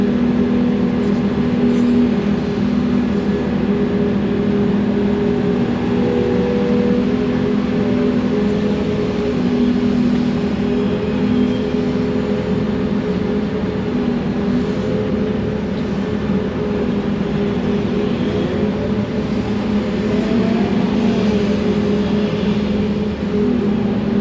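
An articulated dump truck slowly tips its load onto a pond dam, its diesel engine droning steadily and loudly at close range for the whole stretch, with no talk over it.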